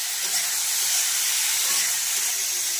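Bay leaf and dried red chilli sizzle in hot oil with boiled chalta fruit pieces, giving a steady, even frying hiss that holds close and unbroken throughout.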